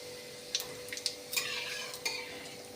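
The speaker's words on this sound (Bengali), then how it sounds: "ওই কড়াইতেই তেল দিয়ে তার মধ্যে সামান্য জিরা সোমবার দিয়ে দিলাম" Cumin seeds fry in oil in a wok, a soft steady sizzle broken by several sharp clinks and scrapes of a spoon stirring against the metal, close and fairly quiet.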